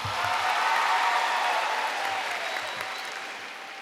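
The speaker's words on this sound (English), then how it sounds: "Give her a big hand clap." Keynote audience at a state convention applauding together, a dense, steady wash of clapping that swells early and slowly fades over about four seconds, with no voices over it.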